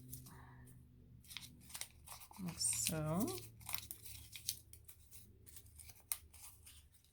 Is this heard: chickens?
no